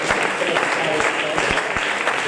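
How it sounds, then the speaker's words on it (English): At an awards evening, an audience gives a round of applause for the committee, a steady rustle of many clapping hands with a few sharper individual claps, throughout the short stretch. "could I just get a round of applause for the committee and all the work that they've done"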